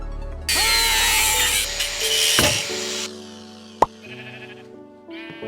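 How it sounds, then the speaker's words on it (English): A cutting disc grinds metal nubs off a car part during a K24 engine swap: one loud abrasive burst of about two and a half seconds, then a sharp clack and quieter tonal ringing afterward. "See these nubs here? I'm gonna go ahead and grind them off real quick."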